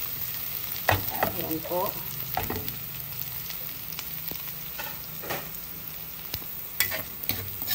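Chopped ginger and browned garlic sizzle in a hot pan while a spatula scrapes and stirs in short, uneven strokes; a voice briefly speaks over the frying.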